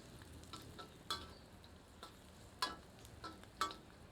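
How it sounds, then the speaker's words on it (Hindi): Chopped onion frying in leftover oil in a pan for a dhaba-style matar mushroom curry: a steady soft sizzle with a few sharp crackles and pops spaced about a second apart, close and alone. "अब कटी हुई प्याज को बचे हुए तेल में डालकर थोड़ा तलते हैं।"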